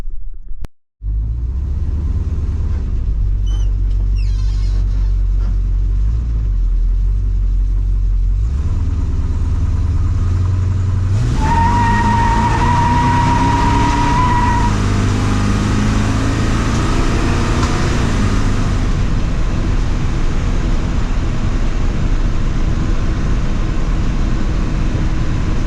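A 1958 Dodge Coronet pulls away and drives down the road, its engine rumbling steadily and loudly from inside the car as the revs climb and shift through gears, with no talking.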